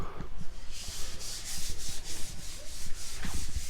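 Close, rhythmic back-and-forth sanding strokes rasp against wooden front porch posts, steady and repeated, with no voices.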